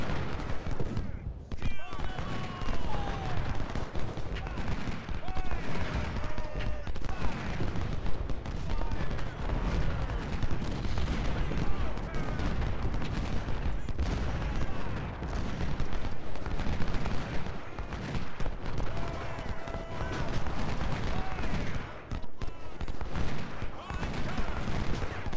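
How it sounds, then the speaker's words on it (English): Dense, continuous musket volleys and booming cannon fire roll across a Civil War battlefield in Ultimate General: Civil War, a loud, sustained barrage of overlapping shots and blasts with no pauses. "at least we'll have these guns shooting"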